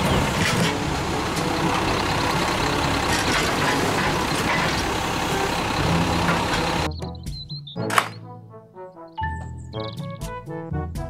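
A toy garbage truck gives off a dense, noisy engine rumble for several seconds. It then switches to a run of clear, sharp electronic beeps and tones, with no speech.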